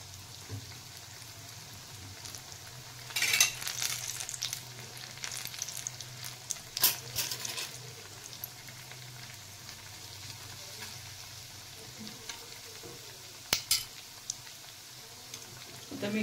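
Medu vada frying in oil, a soft, steady bubbling sizzle held low throughout, broken by a few brief louder crackling bursts and spoon clinks.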